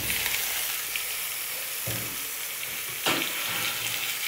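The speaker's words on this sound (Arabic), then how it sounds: "والحين انزل قطع الدجاج." Chicken pieces drop into a hot pot with cumin and spices and sizzle steadily, with a couple of sharper bursts as pieces hit the oil and are stirred.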